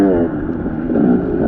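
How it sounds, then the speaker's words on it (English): A KTM two-stroke dirt bike engine revs hard and close, with a rough, buzzing drone that rises and dips slightly but holds strong for the whole moment. "this thing revs so much higher"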